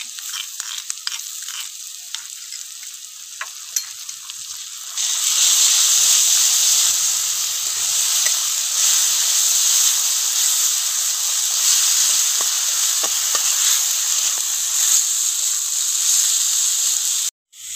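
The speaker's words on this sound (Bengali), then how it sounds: "এবার এর মধ্যে আমি দিয়ে দেবো আদা রসুন বাটা।" Ginger-garlic paste hitting hot oil with fried onions in a pan, a quiet stirring start that jumps into a loud, steady sizzle and hiss lasting several seconds before cutting off.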